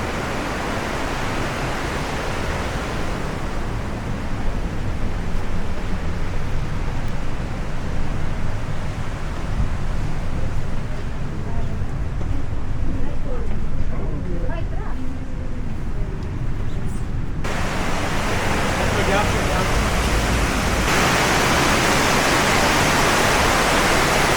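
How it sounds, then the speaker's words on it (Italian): A constant, roaring wash of a waterfall, heard from right at its base, fills the scene, dense and loud throughout; a voice speaks briefly underneath partway through. "Ed eccoci, siamo proprio sotto la cascata"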